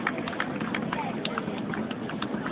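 Hooves of four mounted riders clatter steadily on pavement during a neighbourhood palio parade in Mogliano Veneto, a continuous patter of clip-clop mixed with crowd noise, fairly close and fairly loud.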